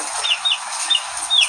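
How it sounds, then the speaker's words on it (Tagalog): Pet chickens cluck in short, scattered bursts a little way off, faint and thin against a steady hiss of background noise, with no voices. "Naririnig na naman natin mga alaga ng manok."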